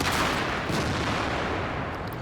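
A heavy tank cannon fires in World of Tanks, a loud, close blast of dense rumbling noise that rolls on and slowly decays over a couple of seconds.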